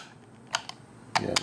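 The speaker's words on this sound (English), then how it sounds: "So they click around, click, click, click, click, as they rotate." The rotors of a 3D-printed Enigma machine on a stainless steel 8mm shaft give a few sharp, close plastic clicks, two pairs separated by a short pause, against a quiet background.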